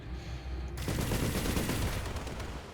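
Weapons fire from mechs in the video game Battletech: a quiet stretch breaks into a dense, continuous burst of rapid gunfire and impacts that stays loud and steady to the end, with no talking.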